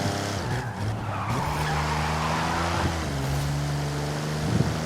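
A car drifts in a racing video game, its tires skidding in a long continuous squeal over a steady engine drone, loud and close with no voices.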